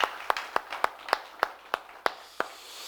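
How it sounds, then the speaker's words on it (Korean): A church congregation claps in slow, even unison, about ten sharp claps spaced regularly in a quiet room. "우리 하나님 앞에 박수 한번 돌려드릴게요"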